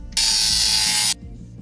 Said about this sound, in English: so that I can drill 2 holes right here